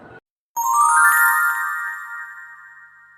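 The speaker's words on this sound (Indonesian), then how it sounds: "Saya sudah menelpon dokter, tapi dokter tidak mengangkat telepon saya." A phone ringtone sounding during an unanswered call to a doctor, a short blip followed by a bright, sustained electronic chime that rings loudly then fades, no talk.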